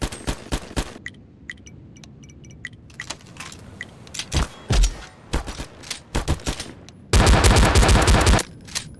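Bursts of gunfire in the Garry's Mod DarkRP game: scattered sharp shots early on, then a dense, loud sustained volley near the end, with a few faint voices mixed in.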